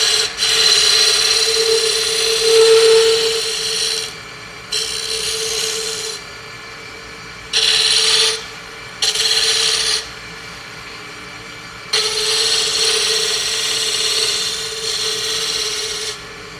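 A wood lathe spins a spindle while a tool rounds over its square corners, giving a steady high scraping hiss in several long passes broken by short gaps, close and loud, with the motor hum underneath and no talking.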